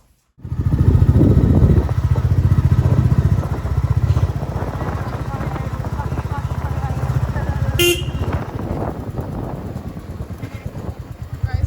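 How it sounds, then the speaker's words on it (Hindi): A Bullet motorcycle rides along with a loud, steady thumping engine rumble that starts abruptly and continues throughout, a short horn honk partway through, and people talking over the engine. "उससे पहले मैं और नित्या चलाते हैं एक बुलेट का राउंड मारते हैं"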